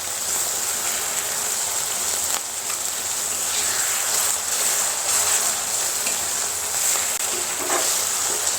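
Onions and masala fry in a pan for a rajma and potato curry, giving a steady, close hiss and crackle with soft scraping from occasional stirring, and no voice over it.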